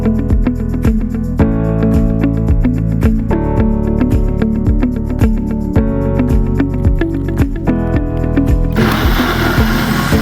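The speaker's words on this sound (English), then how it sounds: "In a blender, add in your milk, peaches, vanilla extract, maple syrup, and blend until nice and smooth." A kitchen blender whirs steadily with a strong motor hum as it purees milk, peaches, vanilla extract and maple syrup for chia pudding, loud and close, ending with a rougher, noisier churn.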